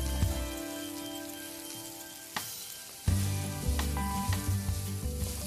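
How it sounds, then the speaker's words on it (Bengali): Garlic paste fries in a little oil with noodles in a pan, a close crackling sizzle punctuated by a couple of sharp clinks and a low rumbling hum underneath. "গার্লিকটা এরকম ভাজা ভাজা হলে আপনি নুডলসটা ঢেলে দেবেন।"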